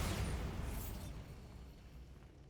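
Bombarda spell explosion in Hogwarts Legacy erupts with a loud broadband blast at the start, then rumbles and decays over a couple of seconds into a low fading tail.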